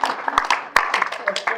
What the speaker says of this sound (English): I'm sure y'all won't mind giving our commissioner a round of applause